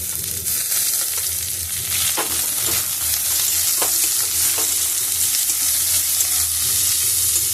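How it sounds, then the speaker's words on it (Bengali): Chopped onion is stirred into spices frying in oil for dhaba-style egg tadka, with a steady loud sizzle and a few sharp spoon scrapes against the pan. "পেঁয়াজটাও আমি দিয়ে ভালো করে একটু মিশিয়ে নেব।"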